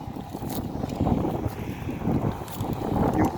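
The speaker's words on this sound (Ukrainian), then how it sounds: "Проводимо дискування." A New Holland TD5 110 tractor discs a field of rapeseed stubble, its engine a steady, dense rumble with wind buffeting the microphone throughout.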